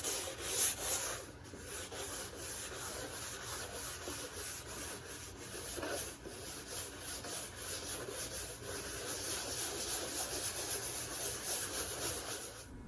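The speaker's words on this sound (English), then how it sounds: "grab your brush and begin to clean the bottom of the board" Continuous close scratchy rubbing of a brush scrubbing dust and debris from the base of a snowboard, with strokes steady and fairly even, quiet overall, no voices.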